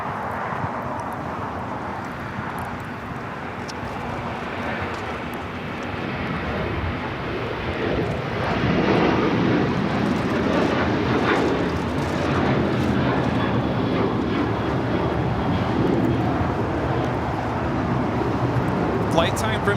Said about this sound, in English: Next arrival is at A380 coming in from Munich.